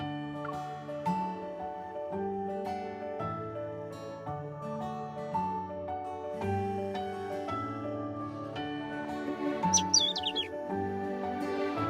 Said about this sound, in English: Is it just me, or have I seen this bird before?